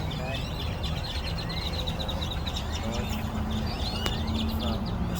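Many birds call and chirp in a parking lot, a steady overlapping chorus of short tweets and whistles over a constant low background hum, moderately loud throughout.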